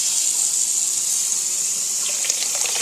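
Water poured steadily into a quart jar of sourdough starter, a continuous hissing gush close by that turns slightly bubbly toward the end.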